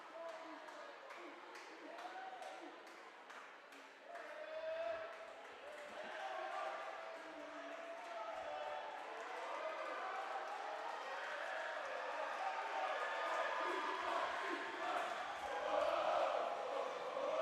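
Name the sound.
crowd noise in a small school gym at a basketball game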